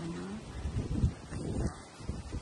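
Strong, gusty wind from the tail end of Cyclone Jasper in Mackay, Queensland buffets the microphone with a continuous, rushing roar, and a voice speaks briefly at the start.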